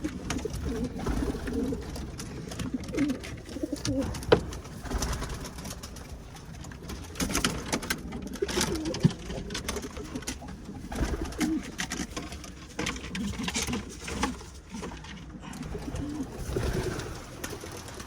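Homing pigeons coo continuously in a small loft, soft overlapping throaty calls with rustling and shuffling around them, close and moderately quiet.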